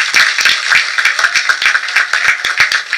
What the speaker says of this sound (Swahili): Tumpigie makofi sana.